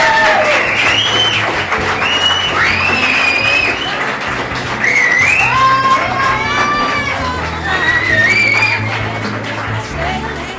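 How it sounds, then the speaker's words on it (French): Wedding guests applaud together in a lively room, a dense steady clapping that carries on throughout while voices and high, bright calls rise above it. "On applaudit."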